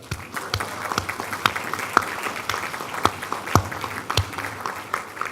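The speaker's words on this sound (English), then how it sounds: "let's just give applause to the Heavenly Father who has brought us all together." Scattered, uneven handclaps from an opening ceremony crowd, with sharp individual claps popping out over a continuous low murmur.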